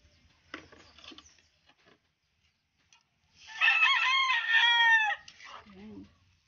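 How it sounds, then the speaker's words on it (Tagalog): Backyard hens clucking with a rooster crowing loudly and close by in the middle, the long rising crow standing alone while scattered clucks and soft chatter fill the quieter moments around it. "Ang aking mga inahing manok dito."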